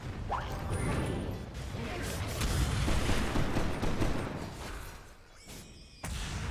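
Explosions and clashing effects crash through a Dota 2 match, dense rumbling booms and bursts layered one after another at moderate level, with speech mixed in.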